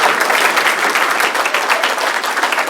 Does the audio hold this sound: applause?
yes